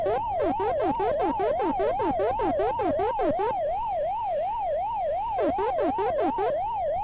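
The Commodore 64 version of Pac-Man gives off its wacka wacka chomping, a rapid zigzagging electronic warble that repeats continuously, loud and up front, with brief sweeping blips layered over it midway.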